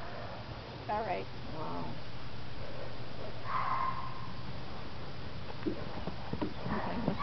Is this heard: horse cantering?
yes